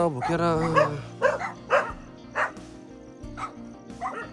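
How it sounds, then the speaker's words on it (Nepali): A dog barks repeatedly in short, sharp yips at an irregular pace, fairly close, with some whiny tones between barks. "कुकुर भुकेर"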